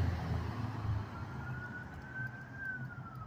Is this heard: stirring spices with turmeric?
no